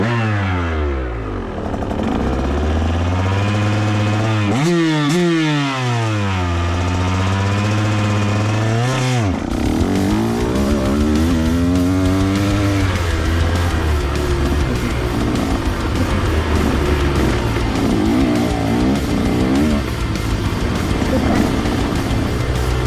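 A KTM dirt bike on a trail, its engine rising and falling through repeated revs and gear changes, loud and close, with clattering over rough ground and no speech.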